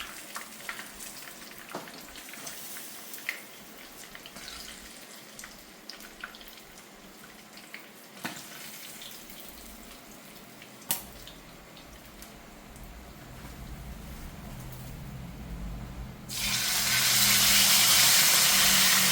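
Fish frying in a pot for Jamaican curry fish, a faint, soft sizzle with scattered pops and clicks that swells into a loud, dense hiss over the last few seconds.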